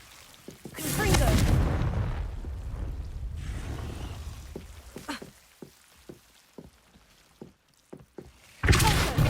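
A Confringo blasting spell explodes in the video game Hogwarts Legacy: one heavy, rumbling blast that slowly fades, followed by a scatter of short, sharp knocks and thuds, then another loud burst at the very end.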